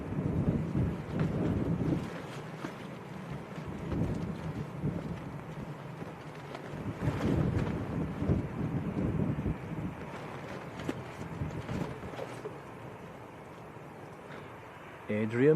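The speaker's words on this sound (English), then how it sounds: "Wind's picking up all of a sudden." Wind gusting over a microphone outdoors at Manchester Airport, heavy low rumbling buffets that swell and fade in waves, with scattered clicks and a voice talking briefly amid the roar.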